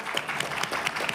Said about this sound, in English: Our applause